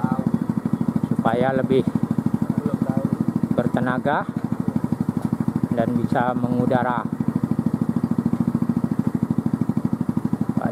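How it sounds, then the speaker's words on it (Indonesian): A car engine fitted to a homemade helicopter built from scrap parts runs at a steady, pulsing idle, chugging evenly throughout while someone narrates over it. "itu mesin mobilnya nyala"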